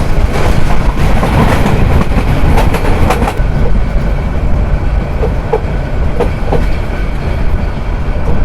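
Egarosindhur Probhati passenger train running on rails near Narsingdi on the Dhaka to Kishoreganj line, a loud continuous rumble with rhythmic clickety-clack of wheels over rail joints and faint metallic squeals, heard from on board.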